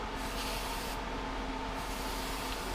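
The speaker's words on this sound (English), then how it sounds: "this is going to spray in a weird pattern" Spray can of adhesive hissing steadily up close while coating a Silverado or Sierra truck driver's seat cover, one continuous loud burst with slight changes in tone.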